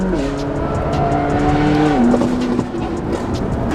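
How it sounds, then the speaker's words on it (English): A high-revving race car engine screams past with a rising then dropping tonal whine like a Formula One car, loud and close, with a brief tire-squeal quality and the pitch falling as it shifts or moves away. "That is one of the best sounding cars I've ever heard."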